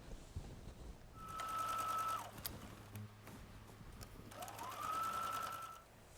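A sewing machine runs in two sustained bursts with a pause between while sewing a border piece onto a quilted wall hanging, a steady motor whine with quieter gaps and no talking.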